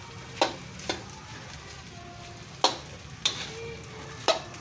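A spatula stirs onions frying in a pan for homemade fried rice, with a soft continuous sizzle under several sharp metallic scrapes and clacks spaced irregularly, close and fairly quiet, with no talking.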